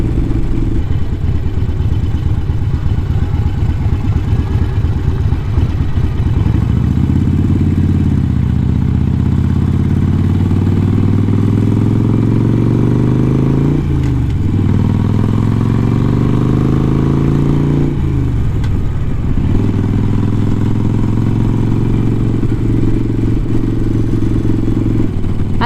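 A Harley motorcycle engine roars loudly and close while riding, rising and falling through several accelerations and gear shifts with a steady rumbling idle between, wind noise underneath.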